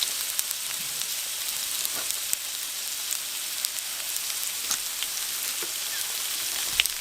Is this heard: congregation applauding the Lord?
no